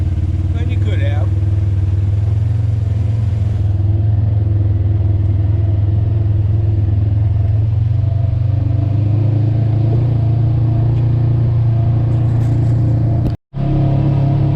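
A Polaris RZR 900 side-by-side runs along a desert trail, its engine droning steadily and loud close by throughout, with a brief cutout near the end.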